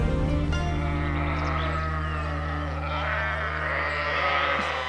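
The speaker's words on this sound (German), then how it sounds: "Schafe!" Sheep bleat loudly and close on a herb farm, several overlapping drawn-out calls sounding continuously with no pause.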